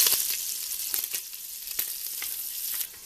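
Sausage bits frying in a pan for a Zuppa Toscana soup, a close bright sizzle with scattered small pops and a stirring scrape, easing slightly near the end, no voices.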